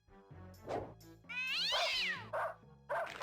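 A cartoonish cat meows and yowls in a PlayStation video game, several distinct meows that build into one long rising and falling caterwaul, clear and unaccompanied by speech.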